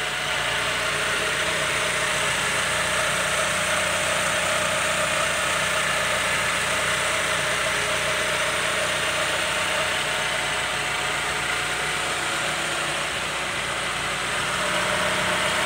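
A 1994 Honda Accord Cielo's engine idles steadily and close by, a smooth, continuous mid-pitched hum with faint mechanical ticking and no voices over it.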